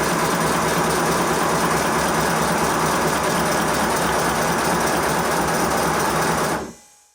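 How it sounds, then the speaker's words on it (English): A repaired 5-inch gauge Modelworks pannier tank model locomotive runs its engine with a fast, even mechanical whirr that holds steady and loud for about six and a half seconds, then cuts off abruptly. "I ran the engine for a while and now it's running much more smoothly than it did."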